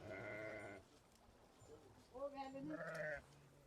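Sheep and goats bleat nearby, a long wavering cry followed by several shorter overlapping calls, faint overall.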